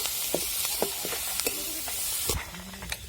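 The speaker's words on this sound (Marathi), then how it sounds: "आपल्याला थोडस तेल टाकून कांदा चांगला परतून घ्यायचा आहे" Onion frying in oil in a pan on a wood-fired chulha outdoors, a steady crackling sizzle with scattered pops and faint tonal chirps running throughout.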